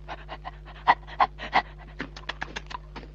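A dog pants in quick, breathy bursts while catching biscuits tossed to it, the rasping breaths coming in an uneven run with a few louder gasps and no voices.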